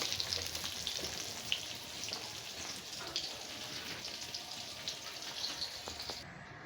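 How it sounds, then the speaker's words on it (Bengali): Crab frying in oil in a village kitchen, a soft, continuous crackling sizzle with scattered tiny pops, fairly quiet and steady throughout, with no talking. "কাঁকড়া ভাজি বানাবো।"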